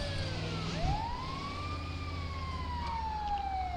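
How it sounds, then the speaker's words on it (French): Emergency vehicle siren rising and sweeping in a long steady wail over a low engine rumble, fairly close and continuous, with no talk over it. "Tu peux mettre les sirènes."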